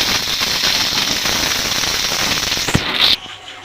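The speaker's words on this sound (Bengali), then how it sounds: "নেড়ে ছেড়ে ভেজে নেবো একসাথে করে" Whole garlic cloves and onion fry in hot oil with a dense, continuous crackling sizzle, close and loud. A sharp knock sounds near the end before the frying noise cuts off.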